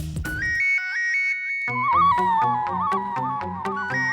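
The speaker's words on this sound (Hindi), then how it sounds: "ये गोकुल धाम वाले कितना भोला बनकर हमें फोन कर रहे हैं" A phone rings with a bright melodic electronic ringtone, a short tone pattern followed by a brief gap and then a fuller musical ring that carries on, loud and close.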